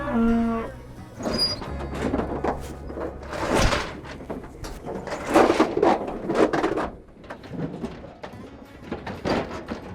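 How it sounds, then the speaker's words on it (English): Cows mooing and calves bawling at a farm pen during feeding time: a rising, repeated run of loud bawls and moos, near and overlapping, over some clatter and knocking. "cows hear those calves bawling and"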